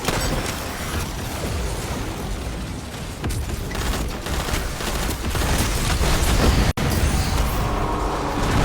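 Grenade explosions and gunfire roar continuously in a Destiny 2 Fireteam Ops mission in Devil's Lair, forming a dense, loud wall of booms and blasts with a sharp break near the end and no voices.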